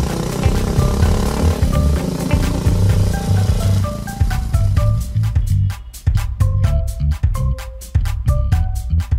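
A motorcycle engine climbs in pitch as it speeds up beneath swelling dramatic music, followed by sharp rhythmic percussive hits.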